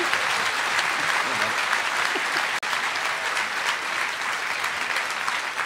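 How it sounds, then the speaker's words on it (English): During a live Edinburgh Festival show, a crowd gives a huge round of applause, loud continuous clapping sustained for several seconds with a brief dropout midway and a few faint voices mixed in. "huge round of applause, please"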